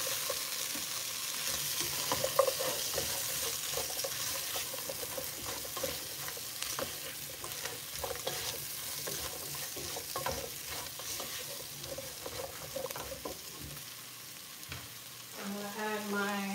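Potatoes and aromatics fry in a pot for curry crab, sizzling steadily and close while a spoon stirs and scrapes through them in repeated strokes, with no talk over it.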